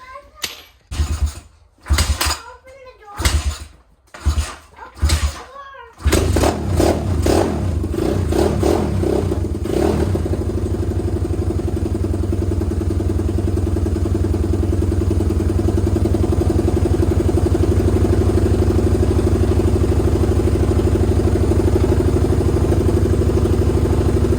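A Pitster Pro X4 190cc pit bike on choke coughs through several sputtering, clattering bursts before catching, then settles into a loud, steady idle that runs on close by.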